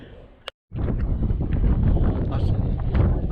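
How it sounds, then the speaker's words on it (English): Wind sweeps across a hilltop at Harting Down on the South Downs Way, a steady low buffeting roar striking the microphone up close after a brief cut. "I don't know if you're going to hear me because of the wind."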